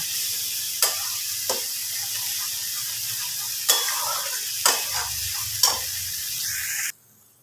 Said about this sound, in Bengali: এতে যেহেতু কাজু বাদাম চারমগজ আছে, তাই জন্য এটাকে কন্টিনিউয়াসলি কিন্তু নেড়ে যেতে হবে।